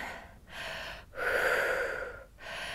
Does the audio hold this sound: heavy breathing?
yes